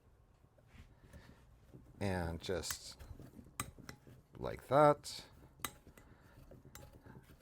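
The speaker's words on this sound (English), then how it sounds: "break it up with my pastry blender" A metal pastry blender scrapes and clinks against a bowl while breaking up lumpy brown sugar, in a few irregular bursts of clatter, with a person speaking briefly between them.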